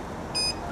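A single short electronic beep, high and tonal, over a steady background hum.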